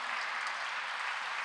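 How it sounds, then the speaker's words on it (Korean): A church congregation applauds to welcome and congratulate a newly married honeymoon couple, a steady wash of many hands clapping together throughout. "우리 잠깐 일어나면 박수로 환영하고 축하하도록 하겠습니다"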